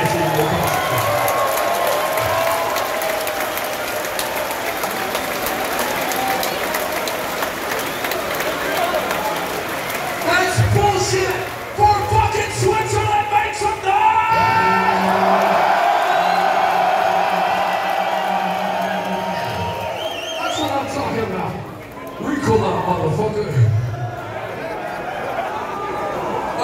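Concert audience at a metal show in Dübendorf, Switzerland, applauding and cheering as a dense, loud roar of clapping and shouts that swells and fades, with the band's amplified voice over it.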